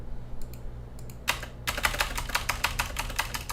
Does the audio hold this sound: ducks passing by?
no